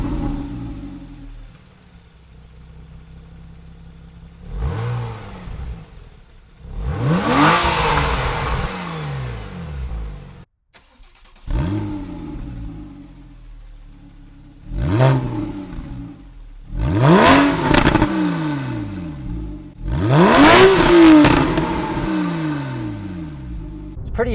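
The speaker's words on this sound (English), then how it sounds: "Pretty easy to hear that there's a lot extra oomph with the sport mode on, plus a lot of little pops and crackles." A Porsche 911 Carrera with a sport exhaust revs in repeated bursts, each rising to a loud snarl and falling away into crackling pops, separated by short quieter idle gaps, close by and without talk.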